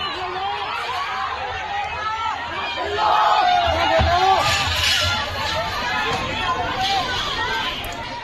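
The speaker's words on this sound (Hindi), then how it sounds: "घोड़ों पर सवार पुलिस पर भीड़ का हमला, पुलिस वालों को घेरकर निशाना बनाया गया।" Protesting teachers clash with mounted police outside a stadium in Mexico during the FIFA World Cup, a loud surging crowd of shouts and babble that swells midway, with running and scattered cries.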